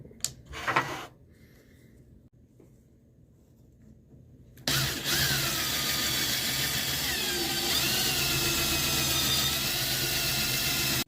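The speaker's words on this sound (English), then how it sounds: "the drill bit that comes with this is perfect for drilling the right size hole" After a few quiet clicks, a power drill starts abruptly and runs steadily at high speed drilling a hole for a guitar truss rod, a loud continuous whine with slight pitch shifts.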